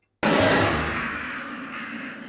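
Crows caw loudly in a Resident Evil game scene, a sudden harsh burst that starts abruptly and rings on, slowly fading over a couple of seconds, with no talking.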